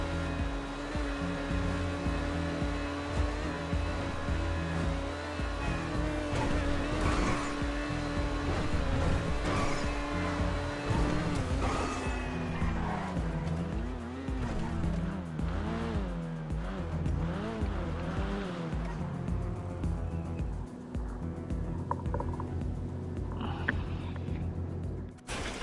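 Car racing through a video game at full speed, with a steady loud engine drone and repeated tire squeals, plus skidding during turns and pitch swings from about the midpoint on.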